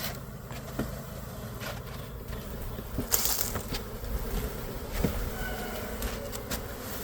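Honey bees buzz steadily close by as they are tipped into a new hive, a continuous droning hum with a few louder thumps and rustles scattered through it.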